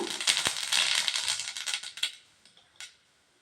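Mustard seeds dropped into hot oil: dense crackling and sizzling spatter, loud at first with sharp pops, then fading to a few scattered crackles near the end.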